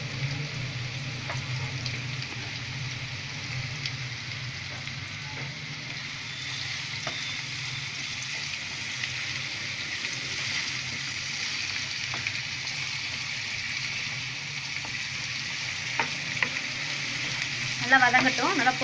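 Onions cook with salt in a pan for chicken podimas, sizzling steadily and close by for nearly twenty seconds with occasional light stirring scrapes and a small clatter at the end, and no one talking.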